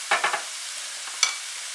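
Ingredients being stirred in a frying pan, three quick scraping stirs over a soft sizzle, then one more stir a moment later, close up.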